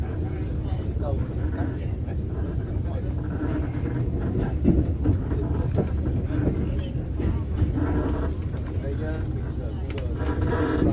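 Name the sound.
NSW TrainLink Xplorer train running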